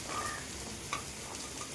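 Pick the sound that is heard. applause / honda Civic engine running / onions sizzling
onions sizzling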